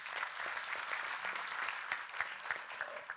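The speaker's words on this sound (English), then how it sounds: "A round of applause, please." Audience at a leadership forum applauds with steady, dense clapping throughout, a sustained moderate round of applause with no voices standing out.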